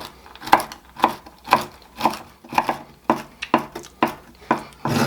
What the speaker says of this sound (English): Next I need to chop some pecans.